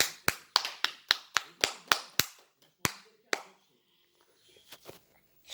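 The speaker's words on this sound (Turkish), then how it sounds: "Alkışlıyorum." A single person claps hands about ten times in a quick, fairly even rhythm, sharp and close in a quiet room, then stops; a couple of fainter taps and soft sounds follow before the end.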